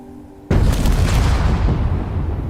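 A missile fires and explodes against a thruster in Space Engineers, a sudden loud boom after a quiet moment, followed by a dense, sustained roaring rumble that slowly settles.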